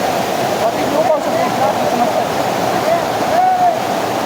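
A small waterfall near Visapur fort pours in heavy monsoon rain while friends bathe beneath it, a constant rushing roar of falling water with voices calling faintly over it.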